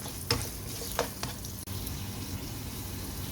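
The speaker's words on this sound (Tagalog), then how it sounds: "Pamoyin lang natin ang ating luya para masarap higupin sa ating malunggay na mussel meat." Ginger sizzling in a pan while being sautéed for a mussel meat soup with malunggay, a steady close frying hiss with a few sharp stirring clicks near the start.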